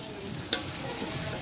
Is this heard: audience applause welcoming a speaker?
no